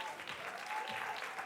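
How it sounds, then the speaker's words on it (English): A brief burst of applause at a women's recognition reception, many hands clapping in a room, moderately distant and continuous through the moment. "Round of applause for that."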